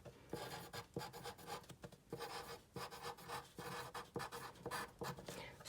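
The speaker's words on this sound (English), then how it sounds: "So I'm going to write down I am smart." A pen scratches across paper in short, steady strokes, a dozen or so quiet scribbles in an irregular rhythm, close and faint, with no voices.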